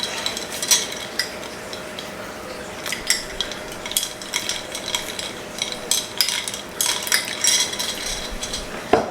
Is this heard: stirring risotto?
yes